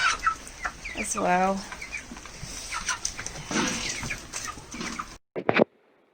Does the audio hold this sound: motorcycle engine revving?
no